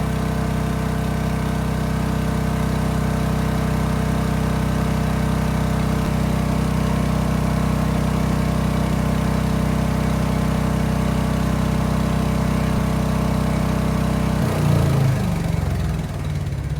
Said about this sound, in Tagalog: The only downside with this generator, dahil ito ay diesel, single cylinder, medyo malakas yung ingay nito compared to inverter gasoline generators